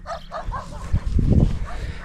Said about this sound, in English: you imagine the barking. Some dog's gone absolutely wild to get at me.